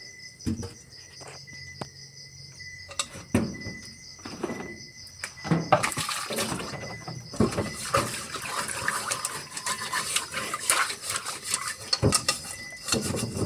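Water splashes and a metal pot clanks and scrapes while being scrubbed, with crickets chirping steadily in the background; no one speaks.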